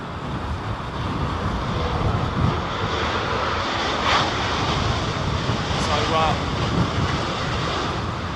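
Airplanes landing at Heathrow airport as Storm Isha hits the UK: a steady, broad jet engine roar blends with gusting wind noise, holding fairly loud throughout with no break.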